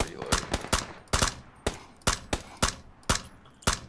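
Rapid gunfire in the PUBG battle royale game, about ten sharp, loud shots in a loose, uneven rhythm with short gaps between them.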